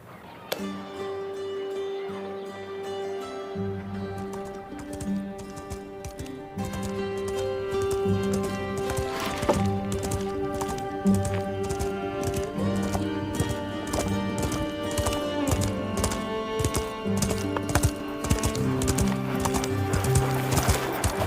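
Steady rhythmic clip-clop of horse hooves in a Western film continues throughout over a musical score, with a brief whinny partway through.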